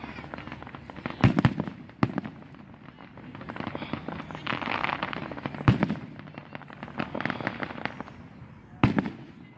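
Fireworks burst repeatedly at a display: sharp booms and crackling pops come in irregular clusters at mid distance, with faint voices murmuring in between.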